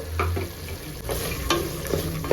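Sprouted field beans stirred in a hot pan, with a steady sizzle of frying under scraping stir strokes and a few sharper clatters, close and fairly loud, no talking.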